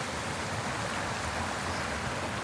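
A creek rushes near waterfalls in North Carolina, producing a constant dense wash of flowing water that stays even and fairly loud throughout, with no speech.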